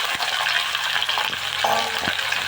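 Cleaned amthu pieces drop into a hot frying pan and sizzle loudly and steadily, with a few soft stirring knocks, close by and with no talking.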